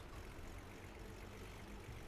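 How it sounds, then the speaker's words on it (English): A propeller plane's engine warms up at an airfield, a faint, steady low drone with an even rumble and no break over two seconds. "I hear a prop plane getting warmed up."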